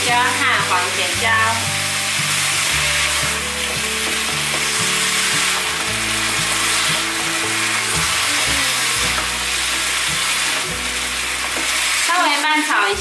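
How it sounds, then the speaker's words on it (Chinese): Red and yellow bell peppers sizzle loudly in a wok during vegan home cooking, with continuous frying hiss and stirring scrapes under steady background music. "大约略炒一下，可以放入红甜椒和黄甜椒"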